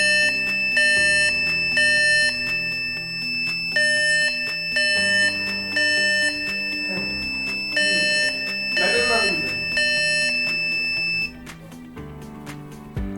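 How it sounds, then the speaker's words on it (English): An Arduino fire detection buzzer alarm beeps in repeated bursts, loud and steady with short pauses between, while a person talks faintly underneath. "It already fire detected and the alarm is on."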